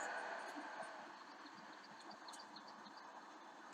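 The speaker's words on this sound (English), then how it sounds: "We have a train here." Train arriving in the railway management game Railway Empire, a quiet, steady rolling rumble with hiss and faint metallic clicks and chimes scattered on top, low in level with no clear voices.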